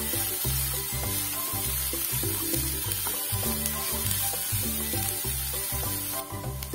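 Mixed vegetables sautéing in a pan for noodles, a constant sizzle under rhythmic, repeated stirring and tossing thuds from a spatula, loud and close.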